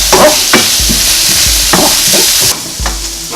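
Fried rice being stir-fried with green onion in a hot pan: loud sizzling under repeated scraping strokes of a spatula, about one every second, with no voices.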